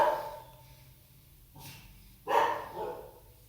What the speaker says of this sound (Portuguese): Cachorro maldito.